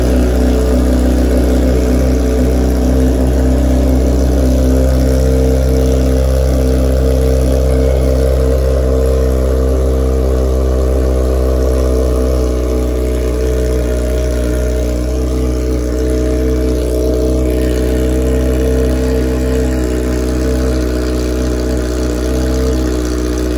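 A Hornet motorcycle engine idles loudly and close by while warming up, a deep steady rumble with mild swells in revs throughout, no voices heard.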